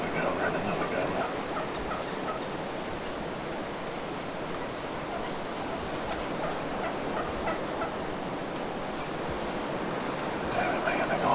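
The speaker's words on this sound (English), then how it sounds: "Another gobbler and another gobbler." Wild turkeys gobble repeatedly in the distance over a constant outdoor wash of background noise, several calls scattered through the stretch.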